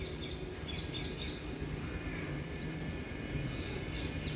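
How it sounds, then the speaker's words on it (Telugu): Small birds chirp in short, high bursts near a tree in a quiet morning garden, the calls fairly faint over a steady low background hum, with no one talking. "అవి చూడండి, ఇవి నైవేద్యం తినే పిట్టలు."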